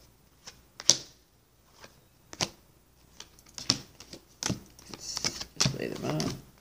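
A tarot deck being shuffled and riffled, giving sharp, close card slaps and flicks in scattered bursts, then a denser flurry of shuffling near the end.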